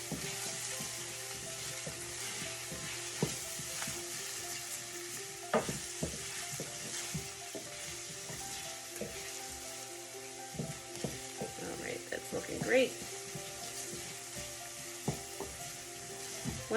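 Garlic frying in a pan, a soft steady sizzle with occasional clinks and scrapes of stirring, fairly quiet and close, no voices.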